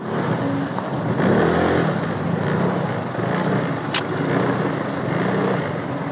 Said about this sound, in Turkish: Oğlum bu yanda niye bu kadar trafik oldu lan?